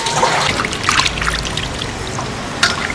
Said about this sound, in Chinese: 洗一下泡沫